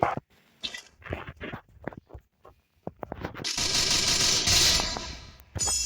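Gunfire in the mobile shooter Free Fire: a dense, loud burst of automatic shots fills the second half, after several scattered sharp single shots and short bursts.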